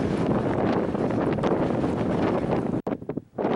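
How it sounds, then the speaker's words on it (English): Strong gusty wind roars against the microphone on a mountain summit near 12,725 feet on Hallett Peak, dropping out abruptly near the end before gusting back in. "It's windy."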